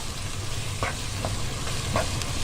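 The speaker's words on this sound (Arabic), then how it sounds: "بعد كده احط الفراخ اللي انا فرمتها في الكبه" Minced chicken frying in a pan for a macaroni casserole, a steady close sizzle with a few soft scraping stirs scattered through it.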